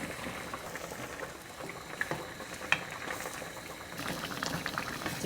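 Tofu stew bubbling in a pot with garlic and chili, a steady low simmer of small pops and gurgles running continuously at close range, with no talk over it.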